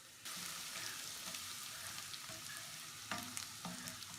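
Steady sizzling of ginger and garlic frying in hot ghee, with occasional stirring clatter and brief louder bursts; no voices.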